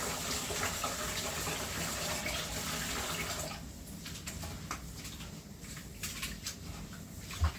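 Warm tap water gushes steadily into a pot of rice being washed, loud and close for the first few seconds, then a softer, uneven splashing as the stream runs through the grains.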